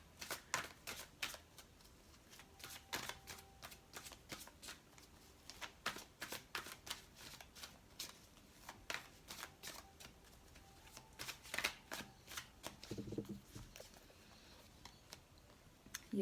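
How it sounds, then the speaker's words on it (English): Angel Tarot cards being shuffled, a quiet close-up patter of repeated riffling taps and flicks in an irregular rhythm that continues throughout, with no talking. "We'll pull some cards from the Angel Tarot deck."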